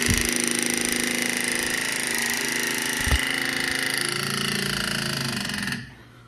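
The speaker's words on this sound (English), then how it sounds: "That noise you heard was the fuel pump pressurizing the fuel lines." A steady, loud mechanical whir and hum as a Honda Odyssey FL250's fuel pump pressurizes the fuel lines, running continuously for several seconds with a brief click midway before cutting off abruptly.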